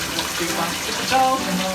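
Steady rush of water running in a shower, a continuous close hiss and splash with slight shifts in tone, no voices.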